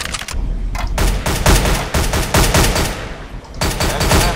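Gunshots fired at a target in Counter-Strike: Global Offensive: loud, close, rapid reports in quick succession, heavy and punchy with short pauses between bursts, and no talk over them.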